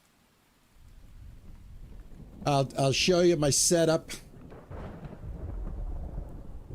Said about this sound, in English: I hope it stops raining soon.